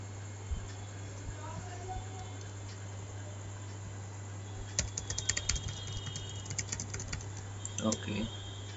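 Keys clatter on a computer keyboard as text is typed, a faint quiet stretch followed by bursts of quick, light clicks, softly heard over a steady low electrical hum.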